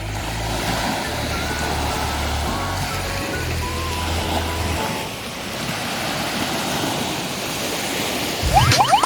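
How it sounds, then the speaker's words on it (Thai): Sea waves wash steadily onto a beach at a seaside tent campsite in the Thai navy area at U-Tapao, a continuous broadband surf roar with a low rumble, swelling slightly near the end. "นอนฟังเสียงคลื่น"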